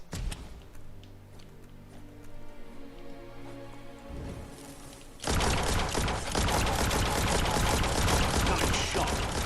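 Dense rapid gunfire from the video game Biomutant, a steady loud crackling burst of shots that starts abruptly partway through and continues to the end over a busier, rumbling game soundscape.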